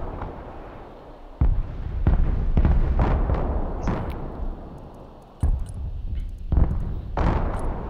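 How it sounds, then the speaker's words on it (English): Artillery fire in the video game Broken Arrow during a 5v5 match: a run of heavy booming blasts, several close together, with loud sharp impacts near the start and again later, set against rumbling battle noise. "Oh, that artillery's beautiful."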